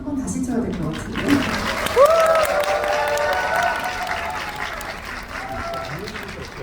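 A cinema audience at a Korean film screening claps again, steady broad applause with a host's amplified voice speaking over it in the middle, the crowd's clapping continuing underneath throughout.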